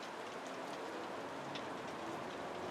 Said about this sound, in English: rain has come in for certain